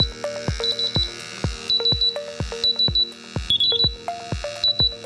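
A QRAE 3 gas detector sounds a multiple-gas alarm, loud and close, with repeated rapid bursts of high electronic beeps over rhythmic low pulses and no talk.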